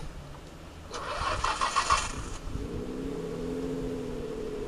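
A Nissan GT-R engine starts with a brief cranking burst and catches, then settles into a steady, rumbling idle, close and fairly loud, in rainy outdoor conditions with no talking.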